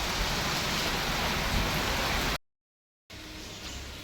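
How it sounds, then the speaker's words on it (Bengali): Steady hiss of rain falling, broken by a brief total silence, then the even patter resumes more softly. "বৃষ্টি হালকা হালকা পড়ছে এখনও বৃষ্টি"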